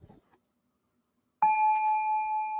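A prayer bell is struck once after a few faint handling sounds, then rings out clear and sustained with a steady, pure tone that barely fades.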